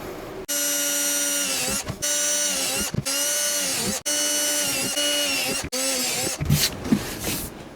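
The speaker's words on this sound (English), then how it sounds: "I want to go ahead and put some holes in this under edge just above where the battery's going to be" Power drill boring holes into the underside edge of a plastic DIY lithium battery box for a trolling motor, heard as several close, loud, whining bursts of a few seconds each, separated by short pauses.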